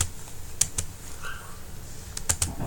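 C++ code typed on a computer keyboard: a few quick clusters of crisp key clicks, close and clear, over a low steady room hum.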